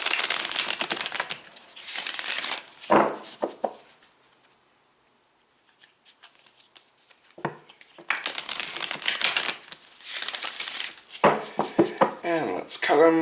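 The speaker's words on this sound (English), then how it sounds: "Shuffle this a couple of times." Tarot cards shuffled by hand, bursts of close crisp riffling and flicking in several bouts with quiet gaps between them.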